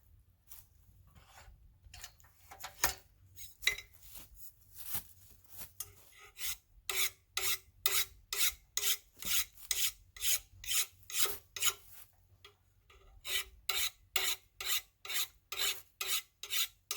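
A metal file rasps along the edge of a badly worn vintage splitting axe, first in scattered strokes, then in a steady run of loud, regular back-and-forth strokes with a brief pause partway through.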